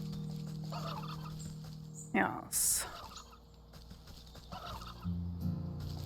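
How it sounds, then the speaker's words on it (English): Chickens in the video game Wytchwood, a short burst of loud gobbling and clucking amid quieter game ambience and background tones, with a person speaking briefly. "There are murder chickens over here, right?"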